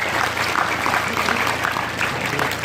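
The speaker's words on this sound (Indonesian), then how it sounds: "Tepuk tangan untuk puskesmas" A hall audience at an Indonesian religious gathering in Kebumen claps for the local health centre, a continuous even wash of many hands at fairly loud level, sustained throughout without talk.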